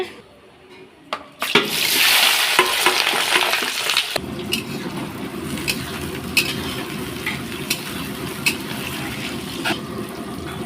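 Fried fish for chilli fish stirred in a hot pan: a steady oily sizzle with scraping and clinking stirs, loudest early on, then a softer constant fry with occasional sharp ticks.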